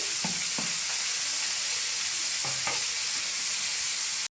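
Chopped onion hitting hot oil in a pan with shrimp and pointed gourd, a steady bright sizzle with a few soft stirring scrapes near the start and middle, close and fairly loud, no voices.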